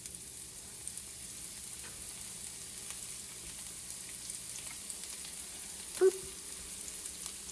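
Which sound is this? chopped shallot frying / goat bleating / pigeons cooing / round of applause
chopped shallot frying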